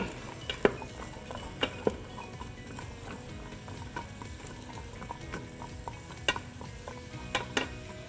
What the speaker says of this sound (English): we're kind of just gonna stir it around with the oil and the butter just to brown them up a little bit